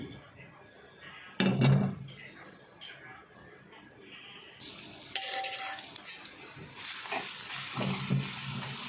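Garlic frying in oil in a pan, a soft sizzle that rises and thickens over time as a utensil scrapes and clanks against the metal, with someone speaking throughout.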